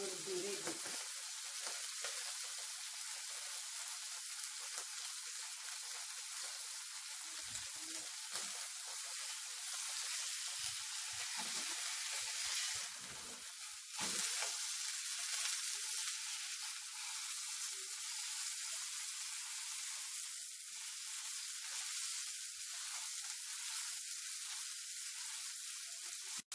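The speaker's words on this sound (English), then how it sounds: "Now I'm cooking my meat." A beef burger patty fries in a pan with a loud, steady, close sizzle and hiss that continues unbroken for the whole stretch.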